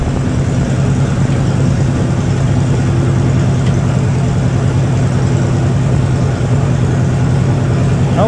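A Gleaner A combine engine runs steadily at a low, even idle, its deep rumble constant and fairly loud throughout with no talking.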